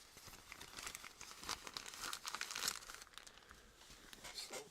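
A plastic bag for the garbage is crumpled by hand, a continuous faint crinkling and rustling with brighter crackles that swell and ebb for several seconds.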